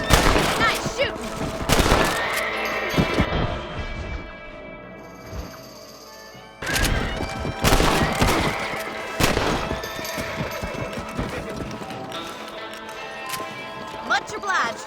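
Rifle shots fired at rabbits in the Red Dead Redemption video game, several sharp loud cracks spaced a few seconds apart over outdoor ambience, with talk and hoofbeats between the shots.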